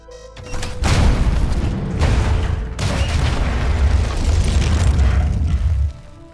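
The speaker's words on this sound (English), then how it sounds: "Explosion imminent." Loud explosion in The Martian VR game, a heavy boom bursting in after a short lead-in and rumbling on for about five seconds before cutting off abruptly.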